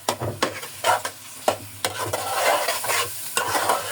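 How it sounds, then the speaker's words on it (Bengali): Turmeric- and salt-coated rohu fish fries in a pan while being stirred: close, repeated scraping strokes of a utensil over a steady background sizzle, with no voices. "আজকে কষায় রান্না করবো রুই মাছ"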